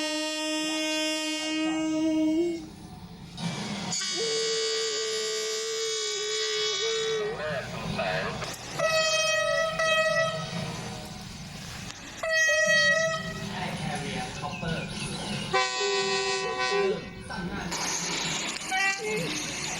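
A Thai passenger train rumbles along the rails while its horn sounds in several long, loud blasts separated by short gaps, with voices faintly in the background.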